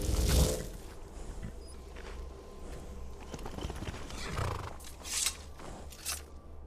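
Hooves of a horse in the video game Skyrim clop unevenly at a walk over a low rumble, with a few sharp scuffs and bursts scattered through.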